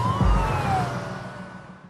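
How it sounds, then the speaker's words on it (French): Police car sirens wail in a falling sweep over a low rumbling background, loud and close at first and then trailing off, with no talking. "Les voitures de police se pressent, sirènes hurlantes, sur les lieux que vient de quitter Oswald."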